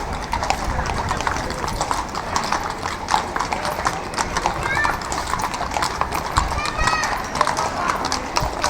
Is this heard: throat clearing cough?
no